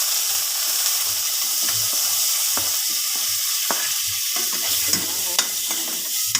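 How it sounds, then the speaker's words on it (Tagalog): Onions sautéing in oil left over from frying fish, a loud, continuous sizzle up close with occasional soft stirring scrapes and faint clicks. "Ito na ang paggigisahan ko guys ng ayan, sibuyas."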